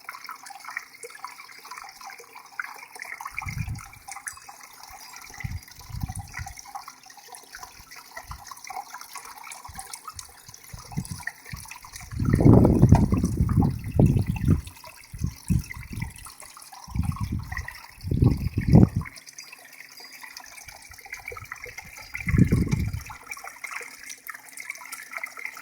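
Water runs through a gold sluice, washing away black sand during a gold cleanup, heard as low, irregular splashing surges that swell louder in bursts midway and fade between, with a steady faint wash underneath.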